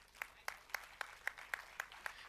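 Faint, distant applause for a chief guest at an international conference at Guru Nanak College, heard as a thin patter with a regular string of individual claps standing out roughly every quarter second.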